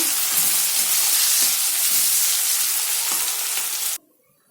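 Onions fry in a pan with a loud, dense, continuous sizzle close by, broken by a few soft stirring knocks, before cutting off abruptly near the end.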